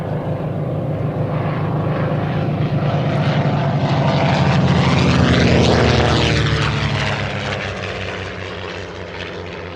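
Propeller aircraft flying in formation at the Shuttleworth air show, a loud droning engine roar that swells as the planes pass close overhead, then fades slightly.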